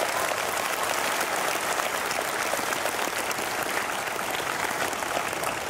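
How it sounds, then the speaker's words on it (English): A graduation crowd at I.T.T Technical Houston North in 2014 claps for graduating veterans. The dense, sustained applause fills the hall evenly from start to finish. "please give them a round of applause."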